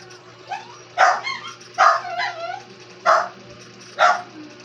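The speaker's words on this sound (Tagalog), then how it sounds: "May aso." A dog barks four or five times in sharp, spaced bursts, close and loud, over a steady low hum.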